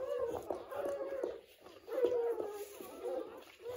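A newborn German Shorthaired Pointer puppy whimpers during the natural birth of a litter, making a series of thin, wavering whines in close succession, near and moderately loud, with faint rustling around it.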